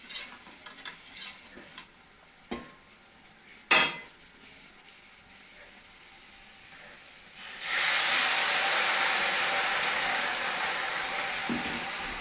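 Spices are stirred into frying onion and garlic with a few utensil knocks. Then a loud, broad sizzling hiss bursts up and slowly fades, close and with no talking.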